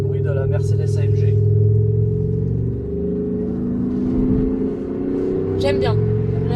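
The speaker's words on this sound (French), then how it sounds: "c'est le bruit de la Mercedes AMG." A Mercedes-AMG fitted with an active sound exhaust system plays a deep, steady engine rumble that holds throughout, with faint voices talking briefly over it.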